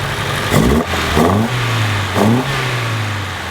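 A freshly refreshed 1976 BMW 2002 engine revs up three times in quick surges over a steady running idle, loud and close, with no talking.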